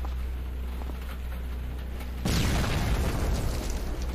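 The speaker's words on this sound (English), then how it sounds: "In the north, you hear a huge explosion." A huge explosion from the north in the video game Cataclysm DDA, a sudden low, wide boom halfway through that lingers as a rumbling roar over a quiet hum.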